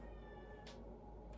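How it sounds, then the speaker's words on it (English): A cat meows outside a door, two short muffled cries about half a second apart, faint and heard alone. "my cat is losing it outside my door as usual."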